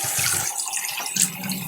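Water runs steadily from a sink tap, washing shaved stubble down the basin, close and continuous with slight splashing.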